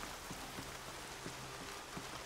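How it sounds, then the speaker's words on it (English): Steady rain patters on a surface in the video game Horizon Zero Dawn, a dense, even hiss with scattered drops, faint and continuous. "I mean, it's raining."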